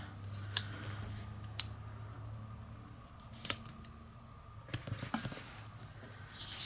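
Big scissors cut through paper in a few sharp, quiet snips spaced across a calm room, with no voices.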